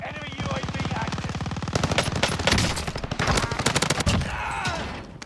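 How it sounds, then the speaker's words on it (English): Rapid automatic gunfire in Call of Duty: Warzone, from a BAR setup: a fast, even burst of close shots rattles on, then breaks into irregular, louder cracks before fading into a trailing rumble. "Don't know what he was shooting at."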